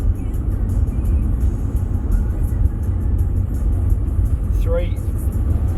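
Car driving along a coastal road in New Zealand's South Island, heard from inside the cabin as a steady low road rumble and engine drone throughout, with a brief faint chirp near the end.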